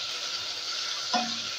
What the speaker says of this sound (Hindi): इसको इस तरीके से थोड़ा सा फ्राई कर लेंगे ऐसे, ताकि इसका कच्चापन निकल जाए।